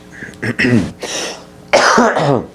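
Several harsh coughs and throat-clearing bursts come in quick succession, close by and loud, with brief pauses between them.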